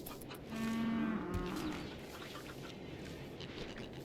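A cow moos once, loud and drawn out, in the video game RimWorld, where pelicans roam a farm and cows are milked. Quieter ambient game sounds fill the rest, with no talk.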